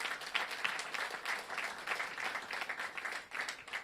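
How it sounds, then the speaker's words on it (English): Steady applause from an audience at a groundbreaking ceremony for a Ward 1 short-term family housing facility, a dense, even patter of many hands clapping for about four seconds with no voices. "Please give him a round of applause."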